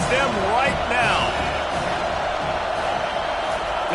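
A football stadium crowd at a Texas A&M versus Auburn game roars and cheers continuously at a distance, a dense steady wash of voices with a few whistles and whoops, under a commentator's talk.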